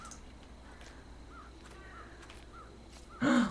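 In a video game set in a cursed forest, a crow lets out one loud, close caw at the very end, after a stretch of quiet ambience with faint, distant bird calls.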